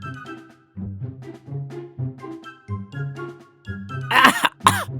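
A man coughs from the smoke of spices being roasted in a wok at a roadside dhaba. He gives a long run of repeated, rough coughs and throat-clearing that ends in a couple of harsher, louder bursts.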